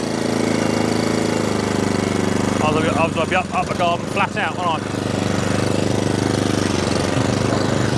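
An Atco Balmoral 20SK petrol cylinder lawnmower engine drones steadily and loudly throughout, with someone talking briefly over it in the middle.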